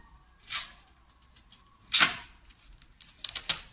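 Adhesive tape rips off its roll in three bursts during a cardboard pigeon-house build: one sharp tear, a louder longer pull, then a quick series of short rips, with quiet between.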